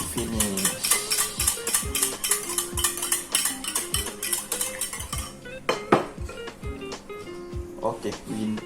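Eggs beaten with fresh milk in a bowl for an omelette in an English breakfast, a rapid clinking whisk rhythm against the bowl with a few louder knocks, close, under music and some talk.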